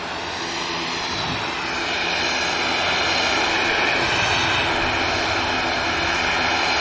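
Airliner in a green livery taxiing out at Manchester Airport, a loud steady jet engine roar that swells slightly and holds, heard from fairly close with no voices over it.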